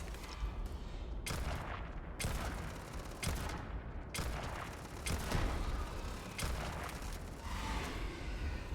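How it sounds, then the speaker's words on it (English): Rapid bursts of enemy gunfire pound away in the video game Starfield, loud repeated volleys and booms separated by brief gaps, continuing for several seconds with no talk over them. "Oh great, now they're shooting at me."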